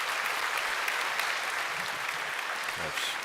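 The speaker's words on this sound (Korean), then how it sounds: "세 분의 우리 인사하실 때 우리 박수로 축복해 주시기 바랍니다" A church congregation at a Sunday worship service claps to bless three newly baptized members, with steady mid-distance applause filling the whole stretch and faint voices underneath.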